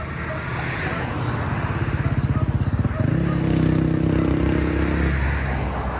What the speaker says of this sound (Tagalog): Smooth na smooth ang palo ng makina nila.